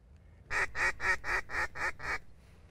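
Seven loud, evenly spaced quacks from ducks close by, coming right in to a duck call on a waterfowl hunt, with no other voices.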